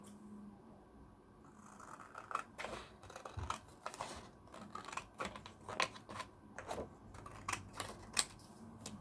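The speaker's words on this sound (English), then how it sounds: "I'm going to cut a strip of card" Card being cut into a strip while preparing a hot-foiled sentiment, heard as a run of crisp, irregular clicks and snips close by, with short pauses between them and no talking.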